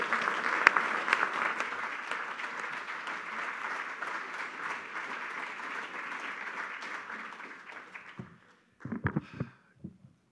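A lecture audience applauds Professor Tucker after a talk on religion and ecology. Loud, dense clapping holds steady for about eight seconds, then dies away, and a voice begins speaking.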